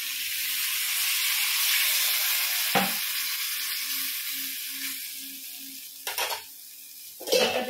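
Water poured into a pan of frying vegetables sets off a loud, steady sizzle and hiss, broken by a few sharp clanks of a utensil against the pan.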